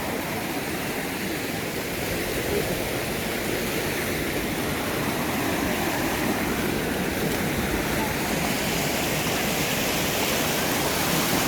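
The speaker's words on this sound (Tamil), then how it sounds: "இங்கேருந்து தண்ணி வர்றதெல்லாம் கொஞ்சம் நேரோ ஆக்கி அப்படியே ஃபோர்ஸாக இங்கேருந்து வெளில விட்றாங்க" Water is forced out through the narrowed outlet of the Koodalkadavu dam in Wayanad, a loud, steady broadband rush and roar that fills the whole stretch without let-up.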